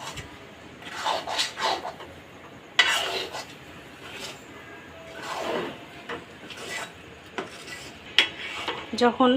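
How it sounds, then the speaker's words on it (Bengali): A wheat laddu mixture is stirred in a pan with a spatula, giving intermittent scraping and rubbing strokes and occasional metallic clinks, close and moderately loud. "ভালো করে নেড়ে মিশিয়ে নিচ্ছি ভালোভাবে নাড়তে হবে"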